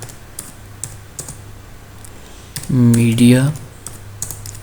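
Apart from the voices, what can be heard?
typing on a computer keyboard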